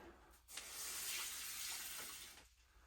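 Water pours in a steady stream for about two seconds, a soft, close splashing hiss that starts and stops cleanly.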